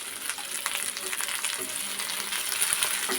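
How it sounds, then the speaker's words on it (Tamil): Coconut and onion stirred and fried in a pan make a soft, continuous hiss with light scraping from the stirring, fairly quiet and close, with no talking. "தேங்காய் சேர்த்து ஒரு கிண்டு கிண்டி விட்டுட்டு இந்த புளியையும் சேர்த்துக்கலாம்"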